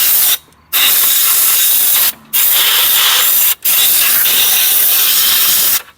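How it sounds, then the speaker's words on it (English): Compressed air blasting out the cooling fins of a neglected 1981 John Deere snowmobile engine, four loud hissing bursts separated by brief pauses, close and alone. "let me put a rag over that carburetor and kind of blow those fins out a little bit."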